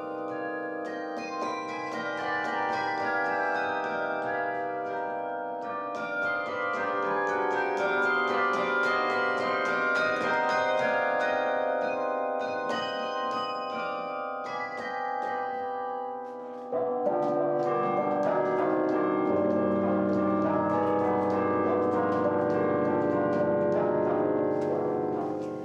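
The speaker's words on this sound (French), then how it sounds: "Le son que vous entendez est celui du carillon de Chambéry," The carillon atop the Sainte-Chapelle tower of the Château des Ducs de Savoie in Chambéry, one of Europe's largest, rings a continuous melodic peal of many overlapping bells, moderately loud and sustained throughout.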